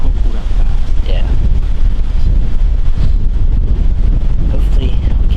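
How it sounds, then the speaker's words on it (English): Strong wind buffets the microphone outdoors on an evening bowhunting stand in Kansas, a loud, steady roaring rumble that fills the whole stretch without pause. "It's really windy."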